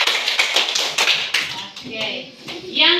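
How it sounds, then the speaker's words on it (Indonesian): Children clap a quick patterned rhythm as a triangle clap for three students in a classroom, several sharp claps in a burst, with voices mixed in toward the end. "Tepuk segitiga untuk mereka bertiga."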